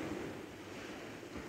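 A steady, faint wash of sea waves rolls along the shore in front of a beachside vacation house, with a soft windy rush and no voices.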